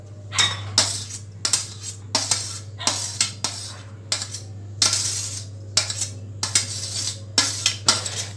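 Chopped onion, cucumber, chilli and tomato go into a bowl for a homemade veg sandwich filling, heard as a run of sharp, close clinks and taps of a spoon against the bowl in an uneven rhythm over a steady low hum.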